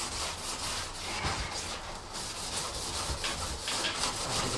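A metal blade scrapes steadily across a grimy oven surface, a continuous close rasping scrape with slight variations in pressure and no pauses.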